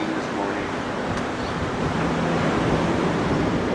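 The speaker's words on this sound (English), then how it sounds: "The ocean for providing music and beauty." Ocean waves wash in a steady, broad roar of surf, close and continuous with a breezy hiss, no distinct breaks between swells.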